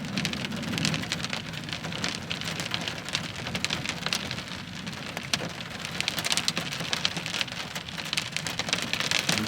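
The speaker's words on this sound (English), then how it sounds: "It's storming pretty good out there." Heavy rain pounds steadily on a parked camping truck during a severe thunderstorm, a dense, continuous wash of close drops with no voices.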